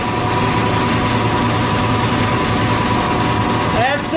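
A 602 crate engine with a locked-out distributor runs steadily and loud, a dense continuous drone with a faint voice over it at the end.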